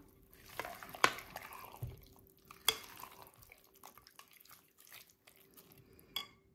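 Beef pulao rice being stirred in a pot, with a spoon scraping and clinking against the metal in scattered soft strokes, plus a few sharper taps, in a quiet kitchen.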